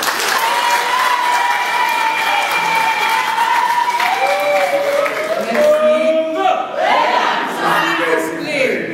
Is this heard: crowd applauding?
yes